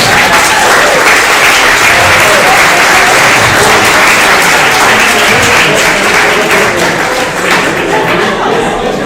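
An audience at an exoplanet-observing event applauds prize winners with a loud, sustained burst of clapping that holds for several seconds and then starts to thin out toward the end.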